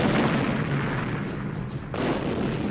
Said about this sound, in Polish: rosyjskie armaty zostały zniszczone ogniem niemieckiej baterii rozmieszczonej w lesie miejskim